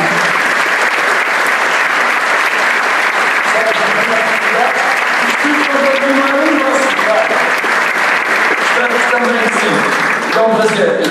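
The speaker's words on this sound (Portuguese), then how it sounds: "Um grande salve de palmas." A gala audience breaks into sustained, loud applause filling the room, with voices talking beneath the clapping.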